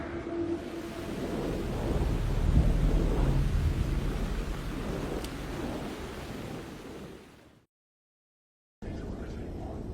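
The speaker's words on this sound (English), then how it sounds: "The rain never stopped falling." Rain and thunder in the video game Alan Wake 2: a broad, rumbling downpour swells to a heavy peak, fades out into a second of silence, then the steady hiss of rain returns.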